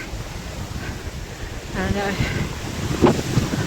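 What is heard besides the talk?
strong wind at a hilltop summit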